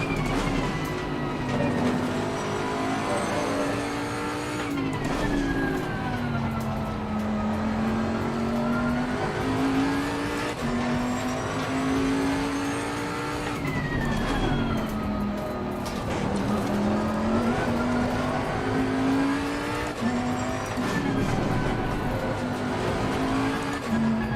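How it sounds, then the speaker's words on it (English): A Bentley GTC race car is driven hard in the Assetto Corsa racing game, its engine droning and rising and falling continuously through gear changes and corners, steady and loud with no talk. "I do like the noises this car makes. It does sound like a Bentley should sound."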